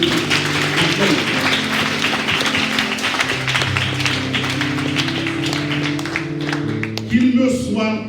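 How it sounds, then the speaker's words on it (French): Applause from a crowd continues throughout while sustained music tones play underneath, fairly loud and close. "Je vous demande d'applaudir Madame Marie-Jonette Doute Adolphe."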